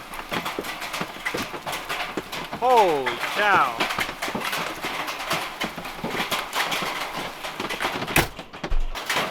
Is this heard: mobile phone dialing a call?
no